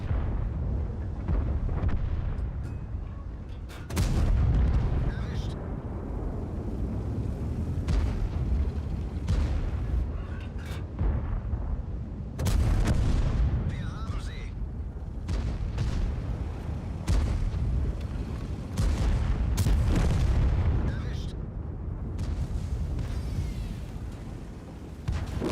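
World of Tanks game audio with repeated heavy tank cannon booms, some loud and close and others duller, over a constant rumbling engine and battle background.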